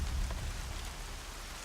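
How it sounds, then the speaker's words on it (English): Rain falls in a video game as a steady, dense hiss of drops hitting surfaces, with a low rumble at the start, brief and even throughout. "Rain's not so bad."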